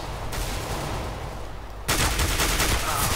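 Rapid automatic gunfire from Counter-Strike: Global Offensive, a dense near burst of shots that grows sharply louder partway through and keeps rattling to the end.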